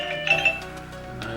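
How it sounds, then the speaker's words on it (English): A mobile phone rings briefly indoors during a laptop battery replacement, a steady electronic tone close by with a short brighter ding near the start, heard alone without talking. "Oh, my phone's ringing."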